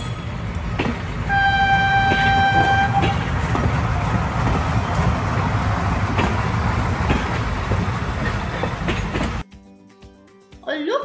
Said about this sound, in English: Now, next train is coming.